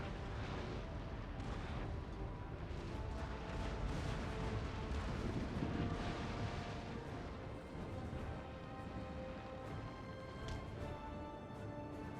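Ship cannons boom in a Napoleon: Total War naval battle, rolling dense and continuous with overlapping distant blasts under a steady roar, with no clear talk.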